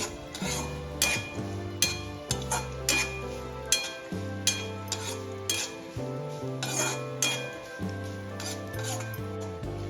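A spoon stirs chopped cashews, almonds and raisins in ghee in a pan, giving repeated metallic clinks and scrapes with a soft sizzle underneath, steady and close throughout.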